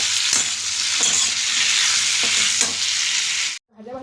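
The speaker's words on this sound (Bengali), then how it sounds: "আবার একটু নেড়ে নিয়ে এগুলো একটু নরম হোক" Cumin seeds and live bata fish fry in hot oil in a pan, with a loud, close, continuous sizzle and occasional stirring scrapes. The sizzle cuts off abruptly near the end, followed by a brief voice.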